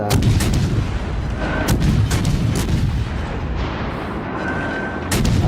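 Heavy 203mm cruiser guns boom repeatedly in World of Warships: Legends, deep loud blasts rolling over a dense rumbling battle din, with a few sharper cracks near the start and end.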